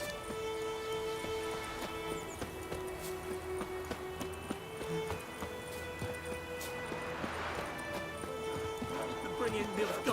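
Horse galloping in The Witcher 3: Wild Hunt, a continuous rumble of hoofbeats mixed with game ambience and tonal music, with people talking over it.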